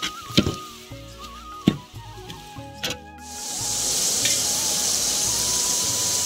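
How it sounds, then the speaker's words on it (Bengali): Chopped onion and green chilli being cooked down into a gravy for a chicken liver and gizzard dish. After a few knocks and utensil clatters, a loud, steady sizzle rises and holds close up, with no speech. "আমরা এটাকে ভালো করে কষে নেবো এবং গ্রেভি বানিয়ে নেবো"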